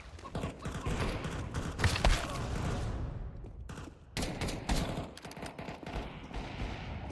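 Rapid gunfire rattles through a Counter-Strike 2 Arms Race match, dense clusters of close, sharp shots in bursts with brief gaps, fairly quiet overall.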